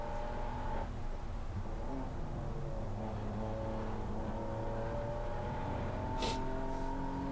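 A Dodge Viper ACR race car runs on the Laguna Seca track, its engine a faint, distant, steady drone with a slight rise in pitch as it carries on.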